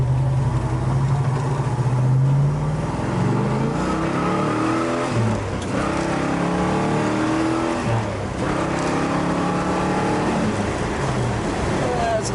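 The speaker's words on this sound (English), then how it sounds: "you can hear the car pulls and it's very responsive" A 1967 Chevrolet Chevelle SS convertible accelerates on a road, its V8 engine loud and close, climbing in pitch through the gears with brief dips at the shifts and strong wind rush over the open top.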